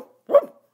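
A storyteller imitates a dog with a single short, sharp vocal bark, close and clear against silence.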